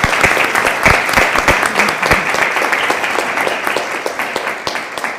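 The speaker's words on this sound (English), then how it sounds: "So we need to applaud Chuck and thank him" A room full of people applauds with quick, loud, sharp claps that hold steady throughout.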